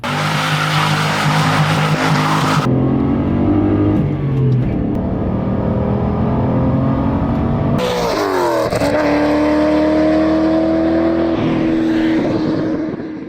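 A 2004–2006 Pontiac GTO revs loudly up close, the engine roaring and climbing in pitch through several rises and drops, with the clutch popped and tires squealing in a long, harsh skid.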